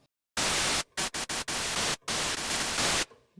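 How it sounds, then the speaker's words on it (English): Bursts of white noise from a noise oscillator in the NanoStudio 2 synthesizer app, a long burst, then several short choppy pulses and two more long bursts separated by silent gaps, loud and harsh. "we'll actually just use a noise oscillator."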